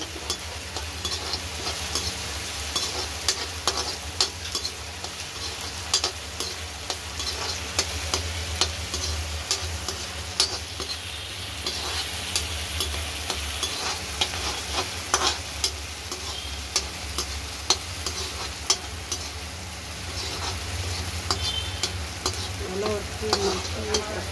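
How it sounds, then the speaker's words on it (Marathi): Green chillies frying in a pan for a vegetable sukat dish, a steady close sizzle with frequent ticks and spatter pops and occasional stirring scrapes, continuous throughout without speech. "ही मिरची सगळी टाकली मी थोडी फ्राय होईपर्यंत फ्राय करून घेऊ."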